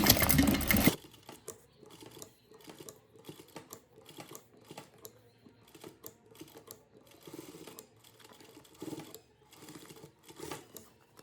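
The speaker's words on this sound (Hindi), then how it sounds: "गोलाई में मशीन को थोड़ा धीरे धीरे चलाएंगे" A sewing machine stitches palazzo pants in short bursts of rapid mechanical clatter separated by brief pauses, close and clear with no talk.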